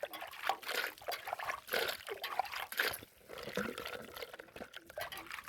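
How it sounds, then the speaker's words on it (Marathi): Borewell water runs and splashes while muddy eggplants are washed, an uneven, close gush of trickling and sloshing that rises and falls in bursts without speech. "आपलं बोरचं पाणी चालू केलं"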